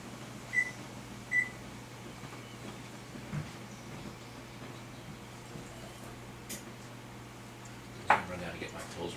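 Two short, faint beeps sound early on as a kitchen oven is set to 350 degrees, over a steady low household hum, followed by a clatter near the end.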